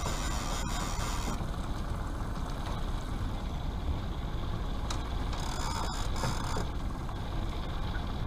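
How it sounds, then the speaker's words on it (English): A fishing reel's clicker ratchets with a rapid mechanical clicking while salmon trolling on a river, heard close over a steady boat engine drone and water noise throughout. "Obviously you can hear the clicker."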